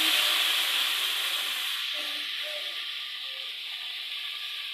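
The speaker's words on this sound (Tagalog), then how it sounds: "Lagay ko na yung ampalaya natin." Bitter gourd (ampalaya) dropped into a pan of mixed vegetables, giving a steady broad sizzling hiss that starts strong and slowly eases, with faint soft clatters partway through and no talk.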